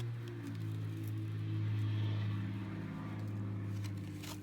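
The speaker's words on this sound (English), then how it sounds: "car going way too fast down our road." A car speeding too fast along a rural road, a low steady engine drone swelling and fading over several seconds, moderately distant and without voices.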